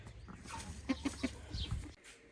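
Young roosters held in a cage give short, rough clucks and a few stuttering calls amid shuffling and background noise, with no one speaking.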